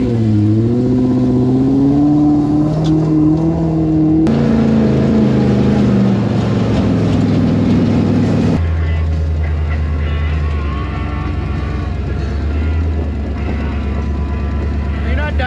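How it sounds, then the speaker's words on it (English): Off-road race car pre-running on a desert trail in Johnson Valley, its engine droning loud and close with shifting pitch as it revs and accelerates past, rough mechanical roar throughout. "Here's another race car. It's pre-running."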